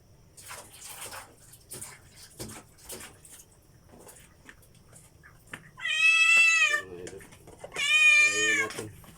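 A hungry cat gives two loud, drawn-out meows close by, after a stretch of running water and quiet speech from a person nearby.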